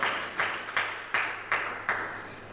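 Church congregation clapping hands in unison: six sharp, evenly spaced claps in a steady rhythm, fairly close, with a faint hum underneath and no voices.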